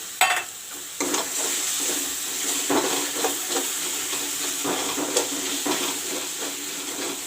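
Masala water poured into a hot cooking pan sets off a steady, quiet sizzle and bubbling, with occasional stirring clicks and small splashes near the mic.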